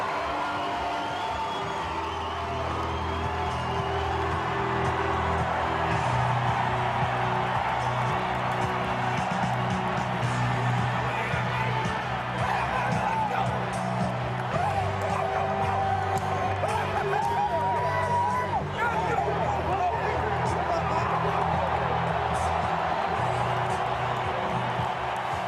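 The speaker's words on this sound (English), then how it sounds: "hear the reaction of how the 329th consecutive sellout crowd here at Memorial Stadium responds to Bo Pelini and his 2013 Nebraska Cornhuskers" A sellout crowd at Memorial Stadium roars steadily for the 2013 Nebraska Cornhuskers as they meet South Dakota State, a dense continuous wash of cheering and whoops with scattered clapping, heard from within the stands.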